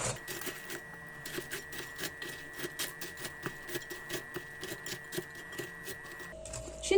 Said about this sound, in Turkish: Şimdi güzelce karıştırıyorum.